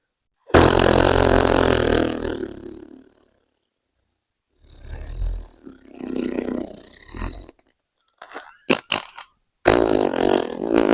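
Several human farts, a long loud rumbling blast at the start, then a broken middle section and a few short sharp pops, ending in another strong burst, close to the mic with no talking.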